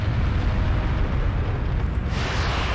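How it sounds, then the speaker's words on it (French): In the Skies of Arcadia video game, a rock thrown by a monster slams down with a dense, rumbling crash that roars steadily for a few seconds. "Le machin, il adore me balancer de la caillasse."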